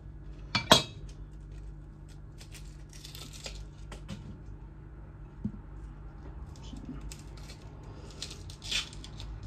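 A carbon steel 52100 gyuto knife slicing a small onion on a board gives one sharp knock followed by soft scattered cuts and taps, close and quiet, with brief talking in the background.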